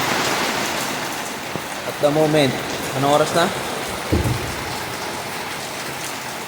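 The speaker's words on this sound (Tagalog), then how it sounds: "Mula na ng ulan." Steady heavy rain from an approaching super typhoon in the Philippines hisses on surfaces throughout, with a person talking briefly over the downpour.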